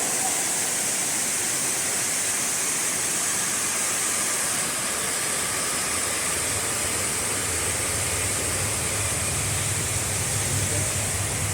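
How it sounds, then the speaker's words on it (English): Connestee Falls in North Carolina, a double waterfall, roars as a steady, loud broadband rush of falling water that continues without a break for the whole stretch, with no voices over it. "It's kind of a double waterfall."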